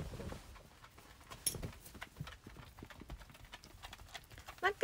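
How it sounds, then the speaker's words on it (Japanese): Pet footsteps indoors after a bath, a run of quick light taps and clicks that stay close and soft. Faint sounds move in the background. "マックシュちゃん、足音キャワって言われてるよ。"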